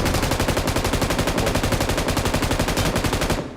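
Loud, relentless automatic gunfire in the battle royale game BGMI, a rapid unbroken stream of shots that fills the whole stretch before cutting off abruptly at the end.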